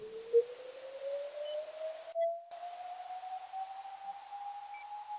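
Waldorf Blofeld synthesizer atmospheric patch, its third oscillator pitch modulated by a sample-and-hold LFO, gives a steady computer-like sine tone that glides slowly upward, with faint blips scattered above and a brief break near the middle.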